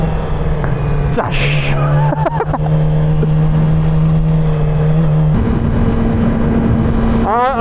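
A Yamaha R6 motorcycle engine drones at a steady pitch, then shifts higher as it accelerates, close and loud throughout, with a brief spoken word near the start.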